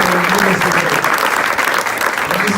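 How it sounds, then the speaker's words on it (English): An audience applauds at an event with a congressman and New York police officers, giving a dense, steady roar of many hands clapping, loud and close, lasting throughout. "Give a round of applause for NIDO, please."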